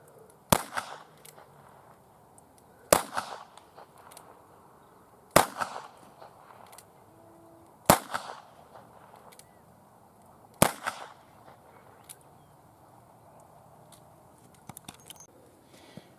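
Five sharp revolver shots with wax-filled rounds crack at even intervals of about two and a half seconds, each a short, close snap with a brief rattle after it.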